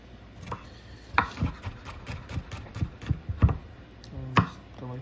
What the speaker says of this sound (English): Chop it how thin or thick you want the garlic.